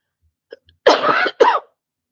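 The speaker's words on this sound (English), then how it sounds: "I'm still coughing up a lung." A person gives two harsh, raspy coughs in quick succession after a couple of faint throat clicks, close and clear in a quiet room.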